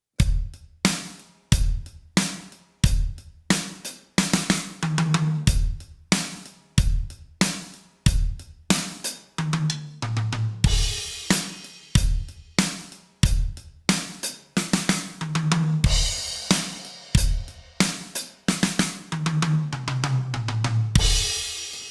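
A rock drum kit plays a steady money beat groove with kick, snare and cymbals, broken up by quick single-stroke tom and snare fills and crashes, loud, close and with no talking.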